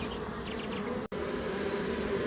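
A honey bee swarm being caught, giving a dense, steady, close buzzing hum that fills the whole stretch with only a split-second break.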